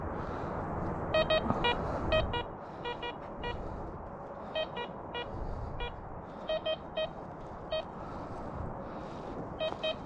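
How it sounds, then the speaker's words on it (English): A metal detector sweeps over a dug hole in a grandfather's yard, giving repeated short, high electronic beeps in irregular bursts over a steady outdoor background. "Let me hit it with the metal detector."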